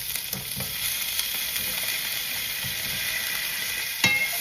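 Prawns frying in hot oil with onions in a pan, a steady bright sizzle and hiss with a few soft scrapes of stirring, close and moderately quiet, with no voices.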